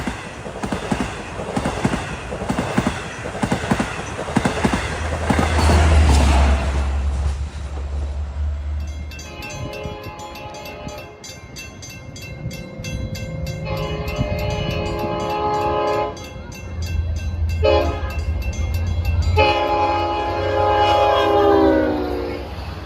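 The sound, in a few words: diesel locomotive horn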